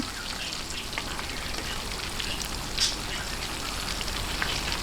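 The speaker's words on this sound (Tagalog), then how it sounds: "prito-prituhin lang po natin hanggang sa lumutong siya" Steady, dense sizzling and crackling of pork intestines frying in hot oil until crisp, close up, with an occasional sharper pop.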